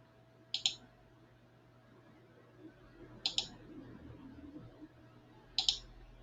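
Three sharp, isolated mouse clicks are heard, spaced a few seconds apart over a quiet, faint room hum while receiving items in NetSuite.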